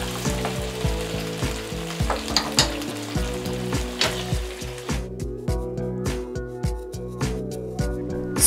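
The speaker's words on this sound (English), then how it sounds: "Continue cooking for 5 minutes without a lid and mixing from time to time." Chicken wings fry uncovered in a sticky honey sauce, sizzling loudly and steadily while being stirred, with soft repeated scraping and squelching through the pan.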